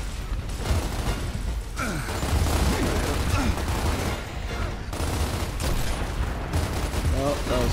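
Gunfire rattles through a Gears of War co-op campaign firefight on hard difficulty, dense overlapping bursts and booms with mechanical clatter running nonstop, loud and close throughout.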